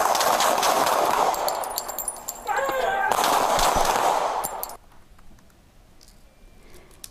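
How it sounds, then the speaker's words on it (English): Gunfire in a played recording crackles as a rapid burst of shots, a dense loud volley with a quick string of clicking pops, before cutting abruptly to quieter background. "And you can hear that right there, the gunfire, as you hear them shooting the shots right there."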